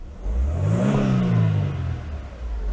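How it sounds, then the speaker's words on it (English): Mercedes-Benz 220CE W124 four-cylinder engine catching and revving: a smooth close engine note rises, holds briefly, then settles back to a steady idle hum, with no voices. "it just sounds like a fairly modern 4-cylinder engine"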